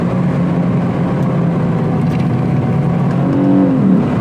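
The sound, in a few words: Lexus car engine revving and shifting with Takeda cold air intake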